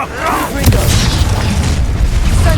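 A Confringo blasting spell from Hogwarts Legacy booms out in a loud, sustained burst of fiery explosion noise with a sharp crack near the start, dense low rumble throughout and battle clutter around it.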